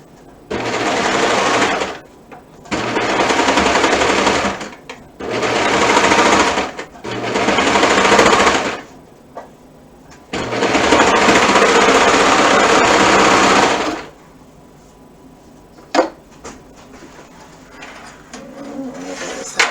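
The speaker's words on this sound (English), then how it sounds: "now I'm going to sew the front panels and the pocket" A sewing machine stitches the front panels and pocket of a garment in five loud, close bursts of rapid whirring, separated by short pauses, with a faint click near the end and no talking.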